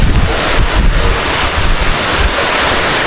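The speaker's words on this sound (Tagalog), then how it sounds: "Hangin yun, mga ka-explore." Strong wind in Baguio City during rainy weather buffets the microphone in loud, rough gusts, a continuous roar with deep thumping low rumbles and no voices.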